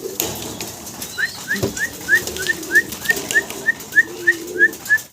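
Fancy pigeons call near at hand, giving a string of short high squeaky notes in an even rhythm, about one every third of a second, with a brief flutter of wings early on.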